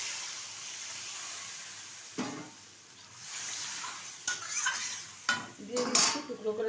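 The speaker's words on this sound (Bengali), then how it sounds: "এখন দিয়ে দিচ্ছি এর মধ্যে পরিমাণ মতো জল।" Water poured into a pan of potatoes frying in spice masala for a pointed gourd and fish curry, giving a sudden hiss and bubbling surge, followed by several close clinks and scrapes of a spoon against the pan.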